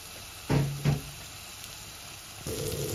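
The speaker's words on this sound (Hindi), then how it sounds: "ये हमने अपने तमाम मसाले इसमें ड्राई वाले डाल दिए, और अब हम इनको भी भून लेंगे।" Dry spices for chicken shorba are tossed into a hot pan, giving two brief bursts of close sizzling over a steady background hiss, then frying picks up again.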